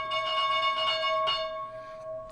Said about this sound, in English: Opening bell.